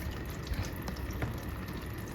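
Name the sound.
water dripping and flowing in an air cooler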